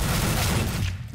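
MP9 submachine gun firing in Counter-Strike: Global Offensive, a rapid close burst of gunfire with dense rattling shots that tails off at the end.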